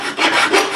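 A metal file rasps across the edge of a drilled hole in a small Flea, Fluke or Firefly ukulele headstock to remove a sharp burr, a few close, loud back-and-forth strokes.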